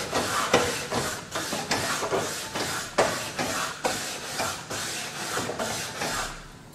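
A wire brush scrubs the cooking grates of a Capital Culinarian CGRT604G4N gas range grill in steady back-and-forth strokes, a close, rhythmic raspy scraping repeated about a dozen times with no talk.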